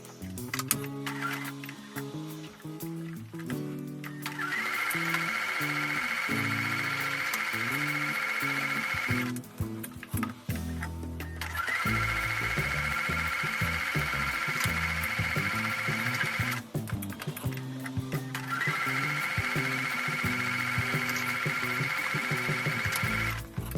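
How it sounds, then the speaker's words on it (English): A sewing machine runs in three sustained bursts while piecing a quilt block with a quarter-inch seam, its rapid whirring needle clatter close and steady, separated by short stops, with no voices. "I'm going to take those to the sewing machine and sew right sides together with a 1/4 inch seam"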